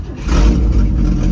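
An old Chevy C10 pickup that sat unused for decades cranks and catches, its engine roaring loud and close with a deep rumble for a brief moment, no voices over it.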